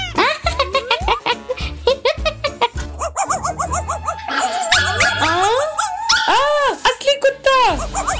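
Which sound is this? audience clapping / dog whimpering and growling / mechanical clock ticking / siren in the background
dog whimpering and growling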